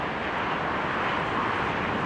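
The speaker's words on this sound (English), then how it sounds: "Looks like a Delta jet with possibly Pratt & Whitney engines or CF6, one of the two." Delta jet airliner with Pratt & Whitney or CF6 engines at London Heathrow in stormy weather, a loud, steady broadband engine roar filling the whole clip with no pauses.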